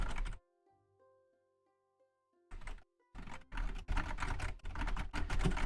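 A keyboard with muted classic click switches is typed on in short bursts of soft clicks. The bursts come in after a quiet stretch with a faint hum, then grow into denser typing toward the end.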